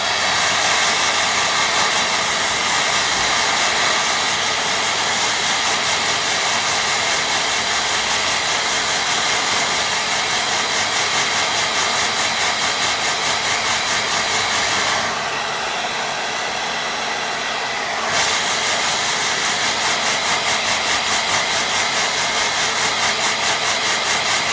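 Hair dryer blowing on a watercolour painting of a sailing scene, a loud, close, continuous roar that dips briefly partway through before resuming at full strength.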